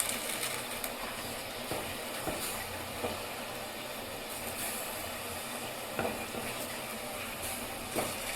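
A dry fish curry masala of ground coconut spice paste with onion, tomato and green chilli boiling in a pot, heard as a steady close bubbling hiss with soft pops here and there, and no talking.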